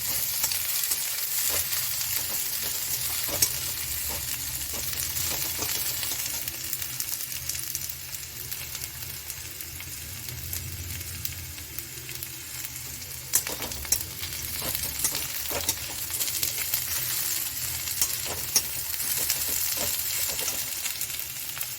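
Onion fries in a pan as it is cooked toward golden, giving a continuous bright sizzle with occasional stirring scrapes and clicks, close and steady throughout with no talk.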